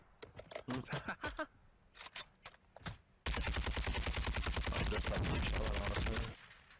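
Gunfire in Warzone: scattered single shots and short bursts, then a long sustained loud automatic stream lasting about three seconds, close and harsh, shooting through a floor, with no talking.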